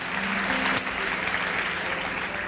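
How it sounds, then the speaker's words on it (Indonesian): Church congregation breaking into sustained applause, a dense, even roar of many hands clapping at moderate loudness, with faint voices mixed underneath. "Berikan tepuk tangan buat Tuhan kita"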